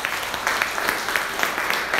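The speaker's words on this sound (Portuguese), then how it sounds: "Se você foi abençoado, aplauda o Senhor." Church congregation applauding during a worship service, a continuous, moderately loud spread of many hands clapping with a few rhythmic pulses, no speech over it.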